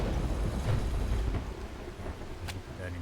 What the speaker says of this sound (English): See this stormy weather all the time.